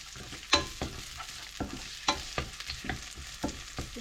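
Onion and curry paste stir-fried in a pan, a soft sizzle broken by sharp scraping and clacking strokes of the spatula at an irregular rhythm, close and without talk.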